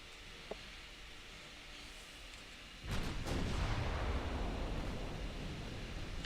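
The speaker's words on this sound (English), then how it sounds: "Main guns can shoot at that." Warship main guns in the naval battle game Ultimate Admiral Dreadnoughts fire with a sudden heavy boom, followed by a long rumbling roar over steady sea and wind ambience, after a quiet stretch at the start.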